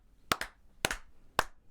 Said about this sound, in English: I just came in here with a clap.